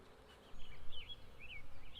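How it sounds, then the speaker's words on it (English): Foraging honeybees returning to the top entrance of a hive in spring, several buzzing wingbeats passing close by in short rising and falling swoops over quiet background noise. "It's pretty neat to be able to see some of the foraging bees already returning to the top entrance of hive number 1"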